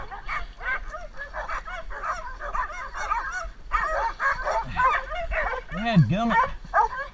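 A dog on a ranch, startled by a gray horse, barks and whimpers in short bursts while people talk loudly over it throughout.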